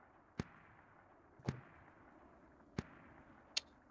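In the tactical shooter Squad, a .50 caliber machine gun fires four separate distant, sharp reports spaced about a second apart over a faint, quiet background.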